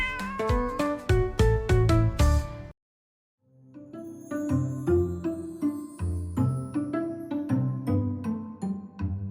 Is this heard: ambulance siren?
no